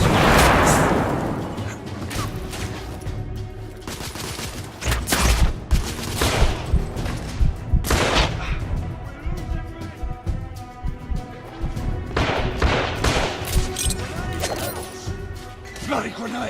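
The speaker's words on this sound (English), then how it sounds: "Bloody grenade!" Gunfire and a grenade explosion in The Order 1886 video game: a heavy blast at the start, then bursts of sharp shots and impacts in irregular clusters, loud and close, with voices shouting between them.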